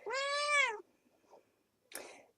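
A clear, drawn-out meow from a nearby cat, followed by a soft rustle and a short, breathy chirp-like call after a brief pause.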